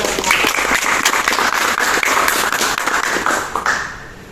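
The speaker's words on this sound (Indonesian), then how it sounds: "beri tepuk tangan" A classroom full of people claps steadily and loudly for about four seconds before the applause fades out.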